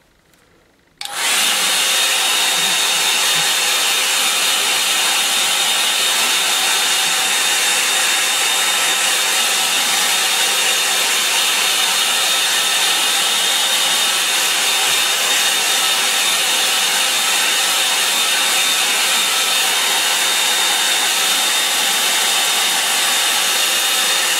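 Hair dryer drying a watercolour painting, starting abruptly after a second and then blowing as a loud, steady, unbroken roar with no talk.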